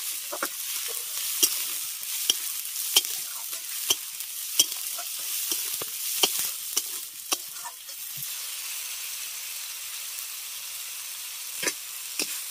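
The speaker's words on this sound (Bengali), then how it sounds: "এবার সমস্ত মশলাটাকে ভালো করে কষিয়ে নেব।" Ground chilli, cumin and coriander spices stir-fry in hot oil in a pan, with a steady sizzle under sharp spatula scrapes that come irregularly, the sizzle easing after about eight seconds while occasional scrapes continue.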